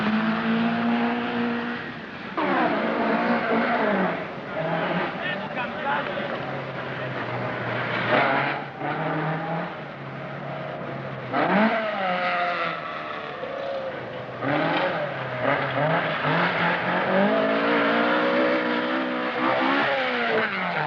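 A 1981 Peugeot 104 ZS rally car on a Cyprus rally stage, engine loud and close, revving hard through repeated gear changes and rising, falling pitch sweeps with no talk.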